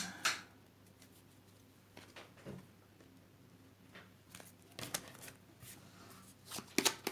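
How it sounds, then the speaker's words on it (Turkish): Tarot cards are shuffled at close range: soft scattered riffles and flicks in short bursts, quiet and intermittent, with no talking. "Kartlarımı hemen karıştırıyorum sevgili Koç burcu için."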